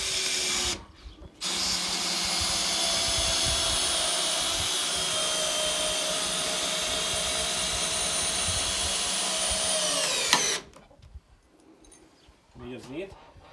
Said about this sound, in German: und dann mache ich die Schrauben rein.